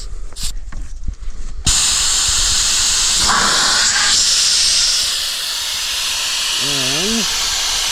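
A valve is opened and a loud, steady hiss of escaping pressure rushes out and holds for several seconds after a few brief knocks, with voices faintly underneath.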